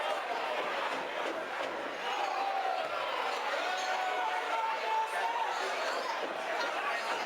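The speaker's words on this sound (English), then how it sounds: "There's such a buzz going on." A wrestling match crowd buzzes loudly and continuously, a thick wash of chatter and shouts, with a few brief raised cries rising above the steady roar.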